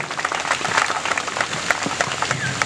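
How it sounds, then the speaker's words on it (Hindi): A crowd at a community gathering bursts into strong, sustained applause, dense overlapping claps swelling and ebbing slightly, with a brief whistle-like cheer near the end. "एक बार जोरदार तालियां"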